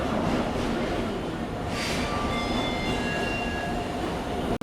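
Basava Express passenger train running from Bengaluru toward Mysuru, a steady continuous rumble of the moving train with faint high metallic squeals rising over it, close and loud throughout.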